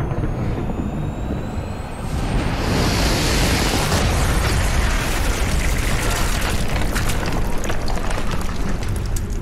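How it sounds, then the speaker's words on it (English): A heavy explosion in the first-person shooter Doom Eternal: a booming blast swells in after a thin whine, then sustains as a dense, roaring rumble with crackling debris for several seconds, loud and alone. "That was one of the meatiest explosions I've ever seen in a video game."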